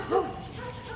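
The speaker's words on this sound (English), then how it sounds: "Dogs inside of fences." A dog behind a fence gives one short bark, followed by faint background noise.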